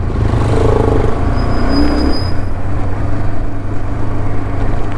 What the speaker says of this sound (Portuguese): Olha a vula que o carro passa. Isso é que é uma pressa.